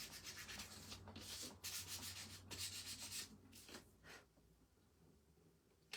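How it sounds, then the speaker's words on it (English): Sandpaper gently rubs over a wooden spring signpost in a handful of soft, close scratchy strokes that fade out toward the end, with no talking. "I do want to sand it gently"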